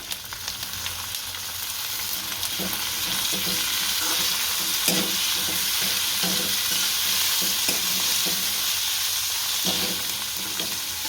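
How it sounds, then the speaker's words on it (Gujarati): Tomatoes go into a hot frying pan for noodles made from leftover roti, giving a steady sizzle with a scattered series of scraping, clinking stirs from a utensil against the pan, close and without talk. "હવે ટમેટા નાખશું."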